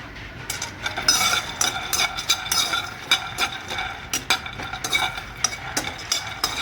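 Peanuts and cut chilli sizzling and being stirred in a hot kadhai, with irregular scraping and light clinks of a utensil against the pan.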